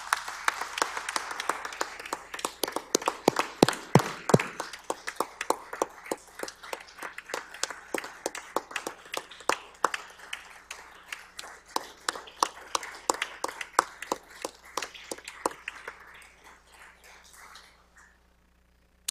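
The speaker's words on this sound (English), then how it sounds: "Please join me in a round of applause to pay tribute to this remarkable leader, the first woman governor of our state." An audience at a state address claps steadily in a tribute to the state's first woman governor, the sharp claps thinning out and fading away over about eighteen seconds.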